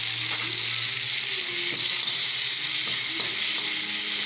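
Tomato fries in a hot pan with a continuous bright sizzle and a few light knocks of stirring.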